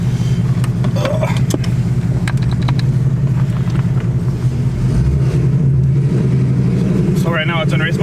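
A modified car with methanol injection and an upper pulley roars loudly under hard acceleration, its engine note dense and constant, while people talk over it inside the cabin.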